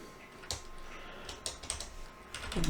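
Rapid typing on a computer keyboard, close and fairly quiet, with quick irregular key clicks clustering in short bursts and a brief pause between them.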